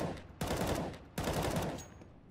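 Bursts of gunfire in a video game, two loud sustained volleys of rapid shots with a short pause between, close and dense, fading at the end.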